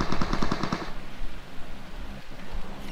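Video game gunfire: a rapid burst of about seven automatic shots in the first second, loud and close, followed by fading ambient game noise.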